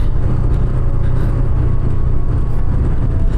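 Steady road traffic rumbles past near Changa Manga forest, a continuous low engine drone with no clear breaks, fairly close and loud throughout.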